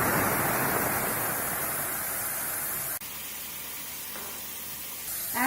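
Steady loud hiss of water hitting spices in a hot pan, a broad sizzling wash that drops sharply partway through and settles into a quieter bubbling hiss.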